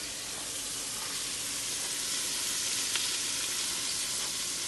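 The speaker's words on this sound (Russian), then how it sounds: "Вот жарится, жарится." Pike sizzles steadily in a hot pan, a continuous soft frying hiss with no talking.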